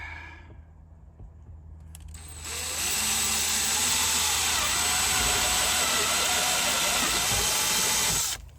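A power drill bores a hole for rivnuts in a Landcruiser 250 during a rear Molle panel install, a loud steady close whine running about six seconds after quieter handling noise, then cutting off.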